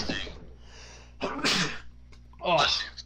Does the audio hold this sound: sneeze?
yes